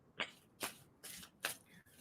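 Tarot cards being shuffled by hand, quiet riffling bursts repeated about four times at a steady pace, close and soft, with no talk over them.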